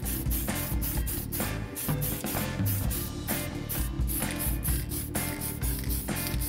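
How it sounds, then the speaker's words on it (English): Spray paint hisses steadily as a black base coat goes onto a Venom maquette from a Spider-Man vs Venom set, a dense continuous spray with brief pauses between bursts, close and fairly loud, without talk. "now that the masking is done, we'll go spray black"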